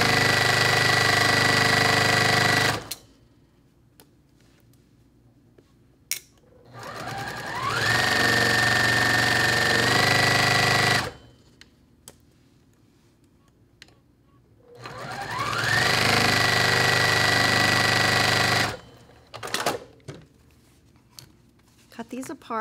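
A sewing machine stitches quilt block fabric in three steady, loud runs of whirring, each lasting several seconds and separated by quiet pauses as the work is handled.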